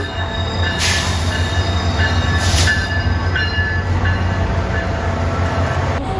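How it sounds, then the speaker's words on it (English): A SunRail commuter train pulls into a station in Orlando, Florida, with a steady low rumble, a couple of bright wheel squeals and brake hisses rising above it, heard nearby. "here's the video that I got of our Sunrail train pulling right into the station"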